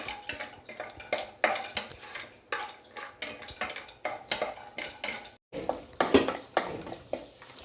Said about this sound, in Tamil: இதில் கொஞ்சம் நல்லா கீயில் நல்லா ரோஸ்ட் ஆகட்டும்.